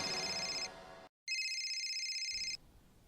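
A telephone bell rings in two bursts separated by a short silence, loud and close, with no voices over it.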